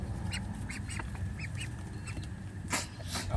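Ducks on a farm quacking while being fed, several short quacks scattered over a busy, rustling outdoor background, fairly close with no speech.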